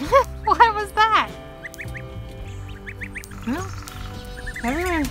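Ducks quack on a homestead in bursts of nasal calls, close and fairly loud, with higher squeaky bird notes scattered between them.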